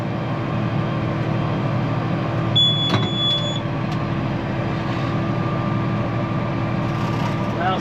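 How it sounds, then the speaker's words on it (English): A hay baler at work on cow hay hums continuously while a single sustained electronic beep sounds for about a second partway through, signalling a full bale chamber. "This thing will tell us when it is nearly full, and then beep at us when it is full."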